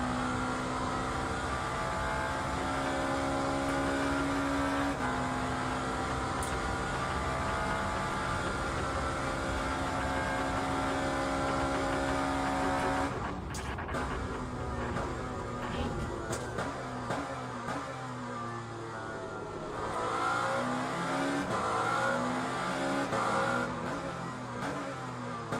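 Lamborghini race car engine in a racing video game's endurance event, a loud sustained howl that climbs and drops through gear changes, with a burst of rapid shifting and revving partway through and no talking.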